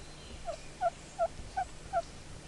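Turkey call worked with a heavier striker, giving five short, evenly spaced yelps near the listener, each a crisp, clear note over a quiet background.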